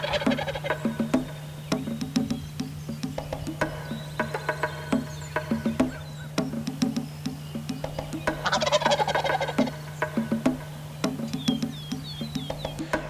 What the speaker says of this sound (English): the turkeys just started gobbling